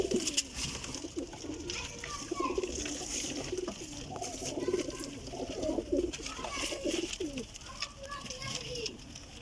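Several pigeons coo in soft, repeated low bursts, mixed with steady background noise from a pigeon seller's collection of young birds.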